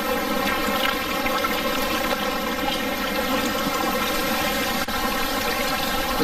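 River water flowing past scree-covered banks on a fossil-hunting trip, a loud, continuous close rushing that stays even throughout, with no voices over it.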